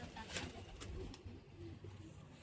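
A pigeon coos softly nearby, a few low throaty calls mixed with brief rustling and light clatter.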